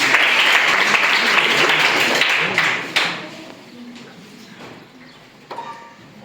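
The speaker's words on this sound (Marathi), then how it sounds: "यशसाठी सगळ्यांनी टाळ्या वाजवा" Applause for a student at a school quiz, clapping from a group that runs loud and dense for the first few seconds, then thins to scattered claps with a final brief burst.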